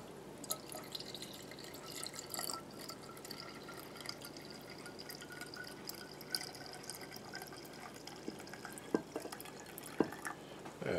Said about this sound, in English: And add the rest of the brine until the cucumbers are all nice and covered.